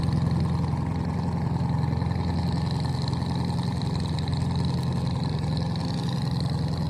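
A ship's engine drones low and steady as the vessel passes under the Aminbazar Gabtoli bridge, a constant close rumble with a faint higher hum and no voices.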